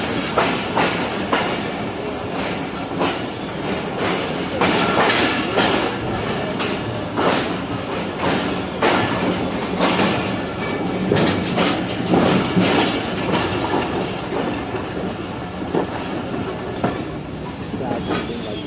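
The Sukkur Express passenger train rolls steadily along the tracks close by at night, loud and continuous, with clattering wheel clicks and rumbling throughout.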